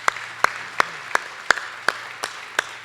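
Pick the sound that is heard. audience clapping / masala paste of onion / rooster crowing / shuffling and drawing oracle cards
audience clapping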